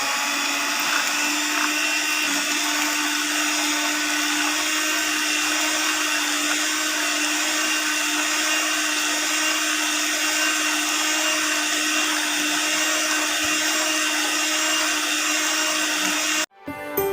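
Electric beater whirring steadily through a sugar and oil batter, a loud, even motorised drone that continues without a break for most of the time before stopping abruptly near the end. No one speaks.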